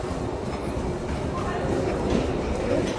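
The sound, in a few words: metro train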